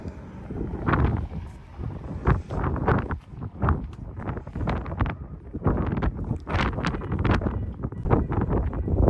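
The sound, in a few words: strong wind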